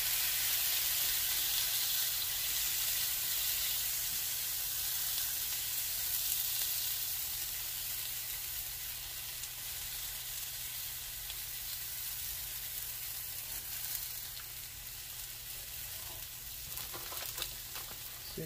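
Mozzarella cheese frying in a skillet to form a taco shell, giving a continuous, even sizzle that holds steady throughout and eases off slightly toward the end, with no voices.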